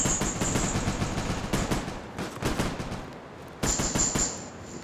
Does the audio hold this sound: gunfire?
yes